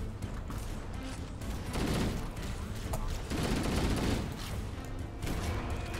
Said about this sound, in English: he's trying to shotgun us